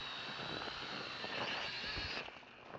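A model airplane's electric motor runs at full throttle, giving a thin, faint whine over a soft whooshing rush, heard from a distance with no talking.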